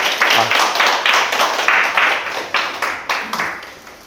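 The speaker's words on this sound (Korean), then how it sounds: "큰 박수 부탁드리겠습니다." Audience at a seminar on family corporations and business succession tax strategy claps to welcome a presenter; fairly close applause starts full, then thins into a few separate claps as it fades out.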